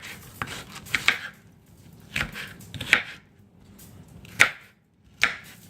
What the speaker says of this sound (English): I'm going to cut this onion